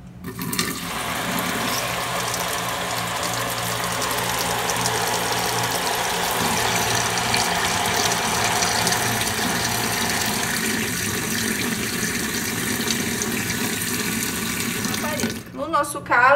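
Water pours steadily from an electric faucet, a Zagonel Prima Touch, with a low electric hum underneath, continuous and close, ending with a brief clatter.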